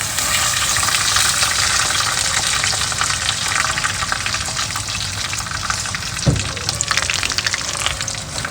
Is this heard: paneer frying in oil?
yes